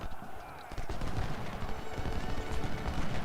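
Battle gunfire from the Civil War strategy game Ultimate General: Civil War crackles as rapid, overlapping musket volleys in a dense, continuous barrage, with a voice talking faintly beneath it.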